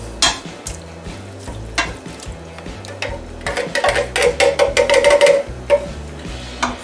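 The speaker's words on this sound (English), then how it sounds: "we're going to take our crushed tomatoes, we're going to add those right into the pot, and we're going to have some liquid in here now, and we can start stirring that around" Crushed tomatoes being stirred into a pot of Texas chili, with a spoon scraping and knocking against the pot in short bursts over a soft simmering sizzle, growing busier toward the end.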